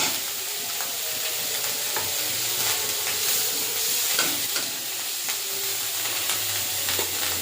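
Steady close sizzle of onion paste frying in a pan, cooked with neem leaves and black cumin for a rohu fish curry, punctuated by regular clinks and scrapes of a spoon stirring, with no voices.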